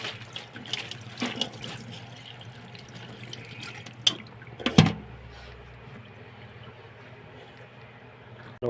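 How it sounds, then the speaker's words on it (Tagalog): Tap water running over vegetables in a strainer, a soft continuous trickle with a few louder splashes and clatters in the middle, no talking. "kailangan pinaagusan ng tubig."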